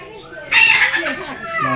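Layer and local hens in a small backyard flock, clucking and calling close by in a short burst that rises suddenly midway, with a faint voice in the background.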